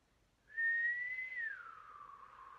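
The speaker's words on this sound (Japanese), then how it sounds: "なんかあのね、吹くまでに至らない口笛。" A single breathy whistle, soft and airy, with a faint tone that holds briefly then slides downward into a hiss.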